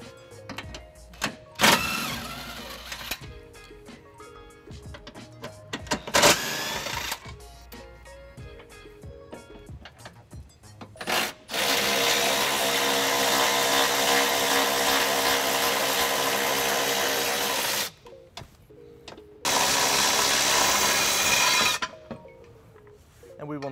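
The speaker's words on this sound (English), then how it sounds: "We're going to remove those using an 18 millimeter socket." Tow hook bolts on a 2018 Infiniti QX60 being removed with an 18 mm socket on a power tool, heard as short bursts followed by two long whirring runs, with gaps of quieter handling between them.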